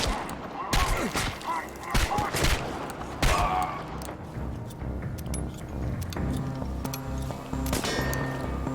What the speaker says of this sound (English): Take cover and shoot